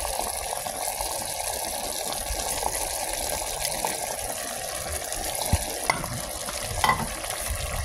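Sinantolan, a santol dish cooked in coconut milk, stirred in a pan, with a steady bubbling simmer and soft scraping of the spoon, a few light clinks near the end.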